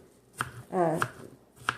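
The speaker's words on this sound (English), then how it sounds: "Just dice them a little bit." A knife chops salad into thin slices on a board, giving three crisp, close taps spaced evenly apart, with a short rustle of leaves between the first two.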